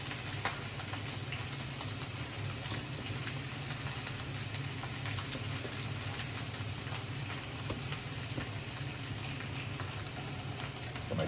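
A sous vide steak sears in oil heated to smoking point, giving a steady, dense sizzle and crackle that holds at an even level throughout, with no voices over it.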